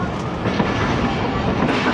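The Awam Express runs on rails with a continuous loud rumble and rhythmic clatter of wheels, heard from on board the train.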